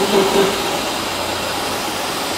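An engine revs hard under throttle, driving a gearbox packed with sawdust. It gives a steady, loud, dense roar with no clear breaks, close by.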